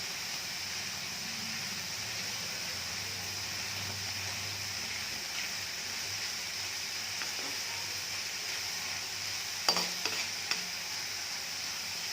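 Dough for Sankranti sweets fries in hot oil with a steady, close sizzle throughout, broken by a few brief clinks toward the end.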